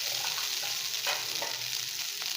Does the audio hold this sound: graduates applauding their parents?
no